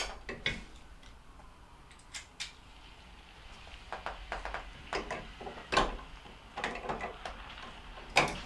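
Pliers work the nut off a GE refrigerator condenser fan blade, giving scattered sharp metallic clicks and ticks, some louder snaps, against a quiet background.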